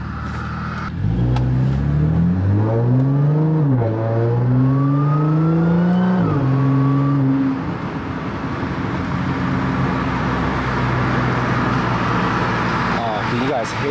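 Nissan 350Z engine revving up and down in a few loud, rising pulls, then settling into a steadier idle-like drone with road or lot noise.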